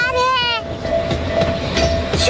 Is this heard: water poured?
no